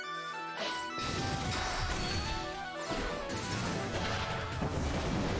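Blooming Fireworks spell attack from the Romancing SaGa re;UniverSe video game, a loud, dense burst of crackling explosions and bright chiming effects lasting several seconds, with a sharp new crash near the start and another swell about halfway through.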